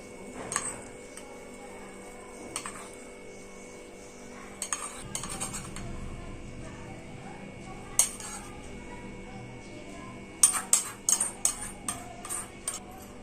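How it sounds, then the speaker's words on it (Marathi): Spoon and steel utensils clink as tempering is poured over fasting dhokla, scattered taps and scrapes against a quiet kitchen background, with a denser burst of clinks toward the end. "फोडणी आपण याच्यावर टाकून घेऊया आता सगळी."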